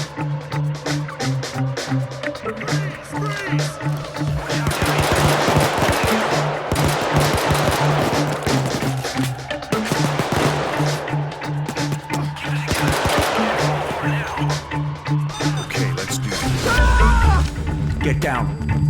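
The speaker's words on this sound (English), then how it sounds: "They're shooting at our tires!" Video game gunfire from Payday 2 during a car chase, with bursts of automatic shots rattling continuously alongside engine and crash noise, while excited voices shout throughout.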